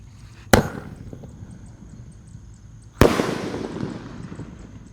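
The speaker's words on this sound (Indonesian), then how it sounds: "Ini yang bledosnya 2 kali di bawah dan di atas." An 'elang' firecracker goes off outdoors with two sharp, loud bangs about two and a half seconds apart, each followed by a short decaying rumble.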